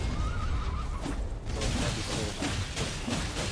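A horse neighs in the video game Elden Ring, a strained whinny amid dense battle noise with thuds and clattering mechanisms.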